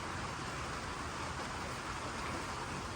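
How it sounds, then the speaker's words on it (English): Steady rain falls outdoors during a wet evening, a dense, even hiss of drops on surfaces that holds constant for the whole stretch with no breaks. "It's raining."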